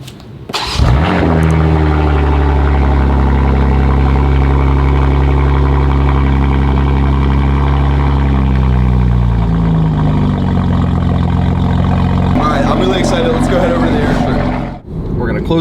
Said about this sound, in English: Listen to how deep and aggressive this is with the stock downpipes.